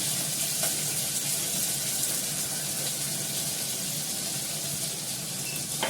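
Potatoes and onions sizzle steadily in a pan of oil, giving a constant, even hiss with faint crackles throughout.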